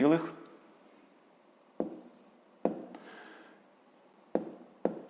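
Pen or chalk writing numbers by hand while working a decimal subtraction, heard as a few separate quiet scratchy strokes spaced irregularly over a near-silent background.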